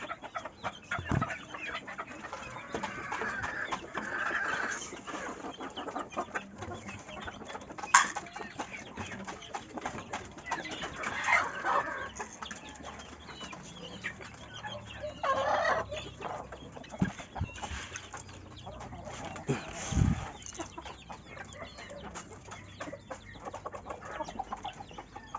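Labuyo chickens and their chicks cluck and peep steadily around a farmyard where hens are laying eggs, with occasional louder calls standing out over the continuous, close flock chatter.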